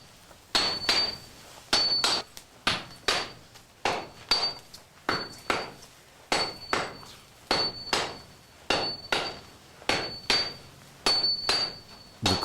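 A hammer strikes a Japanese sword blade of composite steel during forging and shaping, ringing out in a steady series of sharp metallic blows about once a second, alone and fairly close.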